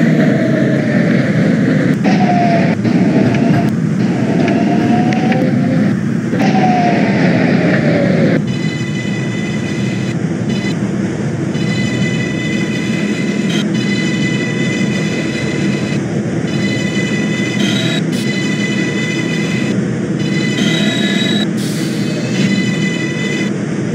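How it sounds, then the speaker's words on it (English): A simulated New York City 6 subway train in OpenBVE rolls along steadily with a loud, continuous rumble of wheels and motors, then shifts to a brighter running tone with faint rhythmic clicks. "This is a Brooklyn Bridge bound 6 train."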